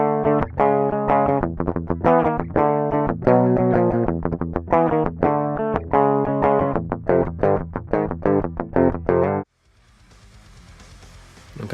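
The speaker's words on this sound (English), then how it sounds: "here's a clean DI of just a quick riff that I've recorded" A quick riff on an electric guitar recorded clean through a DI, played as a series of rhythmic chugging notes and chords, loud and close, ending abruptly and leaving a faint hiss.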